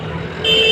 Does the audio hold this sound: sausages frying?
no